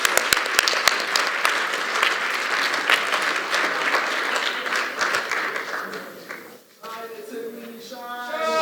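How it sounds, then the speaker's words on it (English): Audience applause at a student entrepreneurship showcase competition, dense steady clapping for most of the clip with a few sharp near claps at the start, fading out near the end before a voice begins speaking. "Please give them a round of applause."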